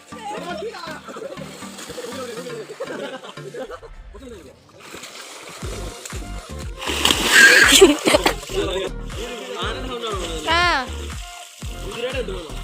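Water splashes and sloshes in bursts, mixed with lively voices and children talking and shouting nearby.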